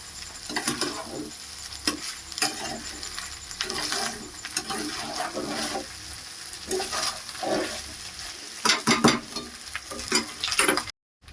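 Cooked rice goes into a wok with fried egg and carrot and is stir-fried, giving steady sizzling with repeated metal scraping and clanks. No one speaks.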